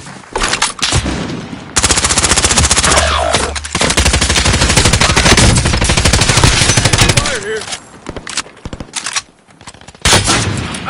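Heavy, sustained gunfire from the video game Payload: loud, rapid automatic bursts and overlapping shots that pour out almost continuously, with a few brief lulls and a sharp restart near the end.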